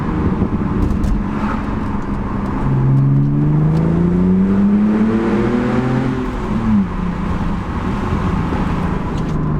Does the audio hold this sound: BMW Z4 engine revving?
yes